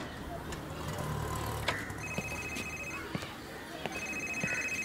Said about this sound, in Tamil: என்ன அதுக்குள்ள ஃபோன் அடிக்கிறா?